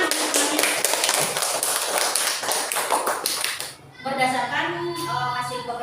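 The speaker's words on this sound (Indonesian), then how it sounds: "tepuk tangan untuk semuanya" Children clapping together in a classroom, a dense burst of rapid, uneven claps for about four seconds that then stops, followed by tonal sounds and voices.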